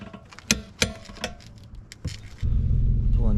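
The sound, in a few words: Audi S4 car pulling into a driveway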